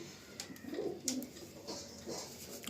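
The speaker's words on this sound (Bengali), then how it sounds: "এই পায়রার ফেদারটা একটু শক করবো, ছেড়ে দিই একটা পায়রা" A Malwai pigeon gives a few soft, short coos as it is handled and released, quiet and close with brief rustles of feathers between calls.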